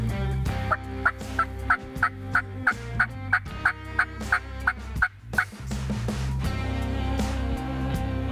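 A wild turkey gobbles in a rapid, evenly spaced run of about a dozen short rattling calls, close and loud over a steady low rumble, then falls quiet.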